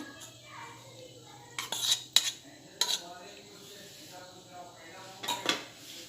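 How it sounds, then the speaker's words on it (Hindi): An egg is beaten in a bowl, heard as a few sharp clinks and taps of utensil against dish, with soft scraping between them; quiet and close, with faint background murmur. "ये देखिए मैंने अंडा फोड़ कर ली हूँ और इसे अच्छे से फेंट कर डालूंगी।"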